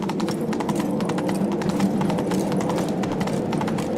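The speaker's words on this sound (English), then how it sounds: "Slow now. Whoa. Come on, Roach." Horse hooves clip-clop steadily and close in The Witcher 3 video game, a continuous trotting rhythm over a dense game soundscape, with no talking.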